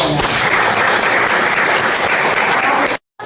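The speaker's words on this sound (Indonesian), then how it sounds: "Iya, tepuk tangan dulu." A classroom of students bursts into brisk, loud, continuous clapping that holds steady for about three seconds, then stops abruptly into silence.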